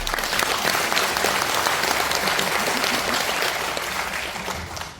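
A seated audience at a National Assembly policy forum on long-term care applauds the hosting lawmakers, thick even clapping that holds loud and then tapers slightly at the end.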